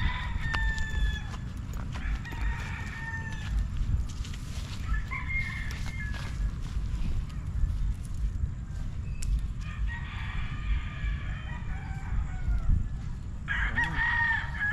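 A rooster crows several times over a steady low rumble, with hens clucking in between.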